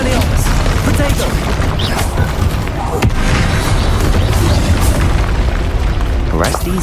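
Bombarda and Confringo spells explode in the video game Hogwarts Legacy, a dense run of loud booming blasts and crackling impacts amid combat noise, with a voice casting spells throughout.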